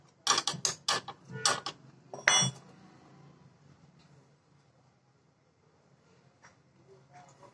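A wrench works loose a 17 mm footrest bolt on a Royal Enfield motorcycle, giving a few sharp metallic clanks and ratcheting clicks up close before quiet handling noises.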